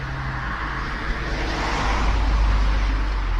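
A second car drives past on a rural road right after another, a close, loud low rumble of tyres and engine that builds and holds steady, no voices over it.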